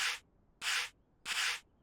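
Sanding in the Workshop Simulator video game: three separate bursts of broad, hissy rubbing, each about a quarter second long, with short silent gaps between them.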